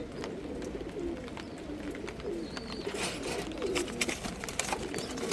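Pigeons cooing softly amid a steady background hiss, with faint intermittent chirps and a few louder clicks and rustles toward the end; no talking.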